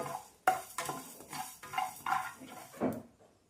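Ingredients for a spinach and raw mango chutney dry-roasting in a pan as a spoon stirs and scrapes, giving a series of distinct scraping clatters against the metal, close and fairly quiet, with no voices.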